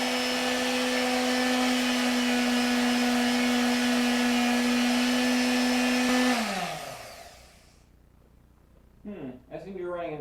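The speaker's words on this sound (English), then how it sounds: "It is a device which has a motor in there that spins it around very fast." A motorized rotary sanding tool spins at high speed with a loud steady whine, then winds down and fades out near the end, followed by a brief stretch of talking while sanding an epoxy knife.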